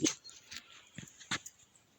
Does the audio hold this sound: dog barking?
yes